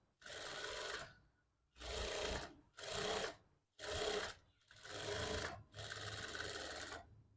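A sewing machine stitches the piping seam of a blouse in six loud, close bursts of a second or so each, separated by short pauses, with no talking.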